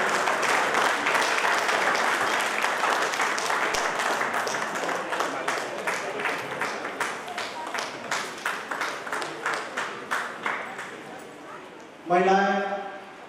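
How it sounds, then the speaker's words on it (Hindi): Loud audience applause greets poet Dr. Kirti Khale at a kavi sammelan poetry gathering, a dense crowd clapping that thins into scattered rhythmic claps before a voice starts speaking at the end. "जोरदार तालियों से उनका एक स्वागत करें।"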